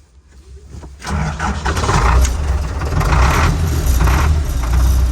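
A D245 diesel engine cranks and catches after its glow plugs heat, settling into a loud, steady rumbling idle close by, preceded by a quiet moment of key handling.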